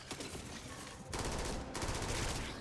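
Sci-fi weapon fire in Starfield comes as rapid automatic bursts of shots, fairly faint, in two or three clustered volleys with no talking.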